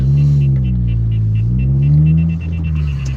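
A car with a manual gearbox pulls away, its engine droning loud and close as the pitch rises and falls through the gears, a deep continuous rumble inside the cabin.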